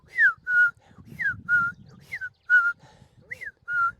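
A man whistles an imitation of a female bobwhite quail's callback call, a repeated pattern of short paired whistled notes, falling then steady, sounded close over light background noise.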